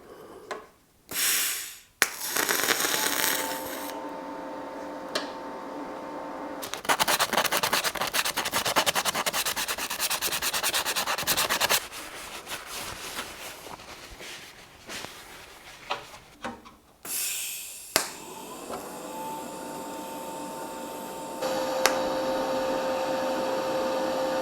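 TIG welding of stainless exhaust end pipes for a Porsche 964, a steady hissing, buzzing arc in several long runs broken by short pauses and clicks, close and fairly loud with no talking.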